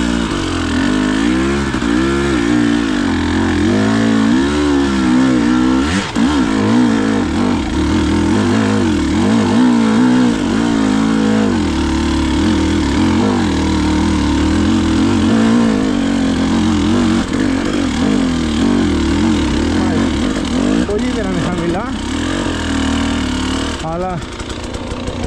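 A tuned Husqvarna motorcycle engine revs loudly and steadily while being ridden, its pitch rising and falling as the throttle changes through the whole stretch.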